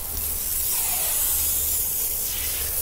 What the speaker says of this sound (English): We'll foam the wheels.